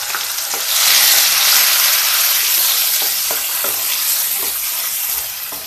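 A ground masala paste fries in hot oil with well-browned onions for a shark fish curry. A loud, steady sizzle fills the whole stretch, broken by soft scraping taps as it is stirred.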